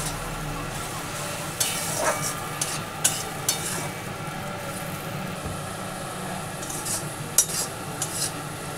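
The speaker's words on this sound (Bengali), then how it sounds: "দিয়ে এইভাবে খুন্তি দিয়ে ভালো করে নেড়ে চেড়ে নিচ্ছি যতক্ষণ পর্যন্ত এর তেল ছেড়ে যায়" Coriander and green chilli paste frying in oil in a pan for a rohu fish curry, stirred with a spatula, a steady close sizzle punctuated by irregular metallic scrapes and knocks, no speech.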